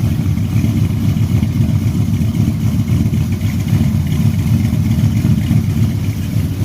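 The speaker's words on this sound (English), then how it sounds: "You can hear the misfire in the exhaust." A 1974 Chevy Caprice engine running with a misfire, its exhaust note a steady, loud, close low rumble that carries on without a break.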